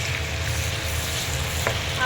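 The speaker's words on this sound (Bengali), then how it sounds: "এই যে ইন্ডাকশানে কিন্তু আমি পটল ভাজাটা বসিয়েছি" Pointed gourd frying in a pan on an induction cooktop in a home kitchen, a steady close sizzle with a brief stirring scrape partway through.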